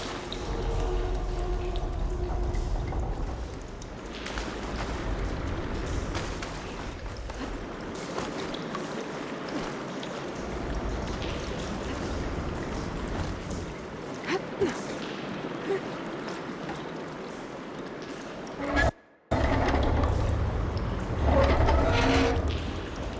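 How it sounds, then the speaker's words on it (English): Water flowing and pouring inside a room in Horizon Forbidden West, a continuous gurgling wash with occasional drips and splashes, moderately close, briefly cut by a short gap near the end. "I can hear water in the room again."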